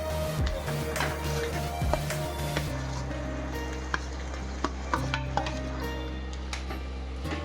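Boiled potato masala filling for dosa is stirred in a hot pan: a soft sizzle runs underneath while a metal spoon scrapes and clinks against the pan in scattered taps.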